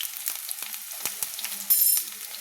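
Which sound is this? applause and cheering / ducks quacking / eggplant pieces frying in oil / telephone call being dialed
eggplant pieces frying in oil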